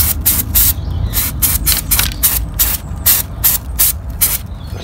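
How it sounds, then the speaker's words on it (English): Rapid bursts of clipper grease aerosol spray hiss in short, repeated squirts onto a Volkswagen Polo brake hub, close and fairly loud, with a low rumble underneath. "spray the middle hub with some clipper grease"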